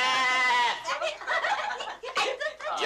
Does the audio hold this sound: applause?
no